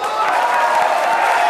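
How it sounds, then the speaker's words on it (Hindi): A comedy show audience breaks into applause, a dense, steady clapping wash with some crowd murmur running evenly through the short stretch. "तालियां।"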